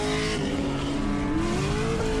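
A BMW E36 M3 race car's engine held at full throttle, a loud, steady, sustained roar with a slowly shifting pitch, heard up close from the cockpit during a track event.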